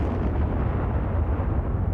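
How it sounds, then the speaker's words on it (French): Atomic bomb explosions over Japan in archival footage make a deep, loud, sustained roaring rumble with no distinct separate blasts. "Ces images, l'explosion de bombes atomiques sur le Japon"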